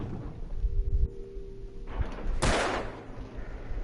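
Gunfire in the video game Alan Wake Remastered: a single heavy, booming shot bursts out over a low, rumbling game ambience, then trails off slowly.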